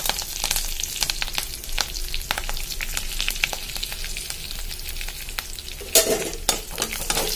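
Garlic, ginger, green chillies and curry leaves sputter in hot oil, making a constant crackling sizzle broken by quick pops and a louder burst of spitting toward the end.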